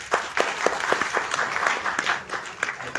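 Audience clapping at a Goa panchayat outreach program, a moderate crowd with individual claps audible in a loose, uneven rhythm, steady throughout the short stretch.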